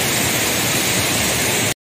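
Jatiluwih waterfall in Tabanan, Bali roars as dense, loud, steady white-noise rushing water that fills the whole clip before cutting off abruptly.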